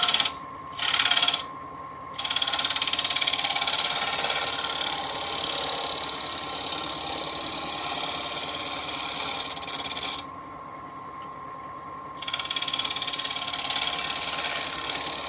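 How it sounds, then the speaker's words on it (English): Dry wood bowl turning on a wood lathe during a shear scrape, a steady abrasive scraping hiss that runs continuously near the tool, with short pauses at the start and a quieter break near the end. "I'm doing a shear scrape right now"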